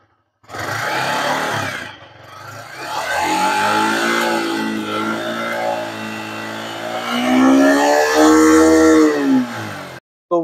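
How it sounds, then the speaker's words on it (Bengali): A Yamaha R15 motorcycle starts up, then its exhaust note rises and falls through a couple of revs, loud and close, with a brief pause early on and no speech. "এক্সস্ট সাউন্ডটা শুনে নিন।"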